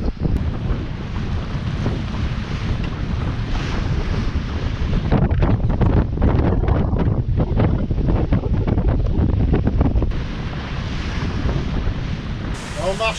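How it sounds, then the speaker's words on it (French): Strong wind of 18 to 20 knots buffets a sailing boat under way at sea, loud gusty rumble and microphone buffeting mixed with rushing water and waves along the hull, continuous and close. "Il y a là entre 18 et 20 nœuds de vent."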